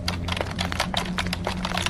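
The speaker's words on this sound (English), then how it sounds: "She was turned away, typing something intently." Rapid, steady keystrokes on a keyboard by an office secretary, close and continuous with an even clicking rhythm, no voices.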